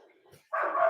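A dog barks once, close and loud, after a quiet stretch with faint background sound.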